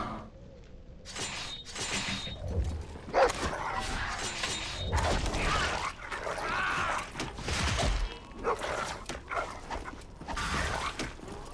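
A dog in a video game barking and growling in repeated bursts amid creaking, mechanical game noise, fairly close and loud, with irregular pauses between the yaps.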